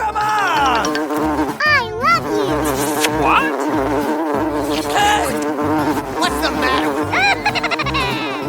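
A cartoon housefly buzzes loudly and continuously, its whine swooping up and down as it darts around, over a steady backing of music and sound effects.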